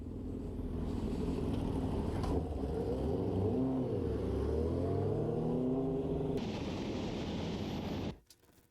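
A KTM Duke 390 motorcycle engine revs up and down in rising and falling sweeps over steady road rumble, then cuts off abruptly near the end.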